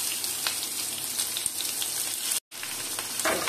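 Onion drops into hot oil with four chillies and cumin, giving a close, steady crackling sizzle that cuts out for a moment and then resumes.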